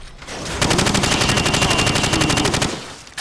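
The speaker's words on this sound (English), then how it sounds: "Bullets will penetrate thin, weak materials like wood, plaster and sheet metal." Rapid automatic gunfire in Call of Duty 4: Modern Warfare rattles off at targets behind a sheet of plywood, one sustained burst of evenly spaced loud shots lasting about two seconds.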